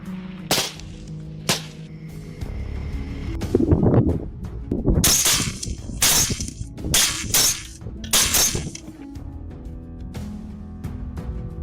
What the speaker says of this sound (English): A volley of shots erupted simultaneously, and the herd was subdued in an instant.